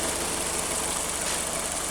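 A steady, close idle from a Volkswagen Bora warming up after repair: an unbroken engine hum with a light vibrating rumble and no speech.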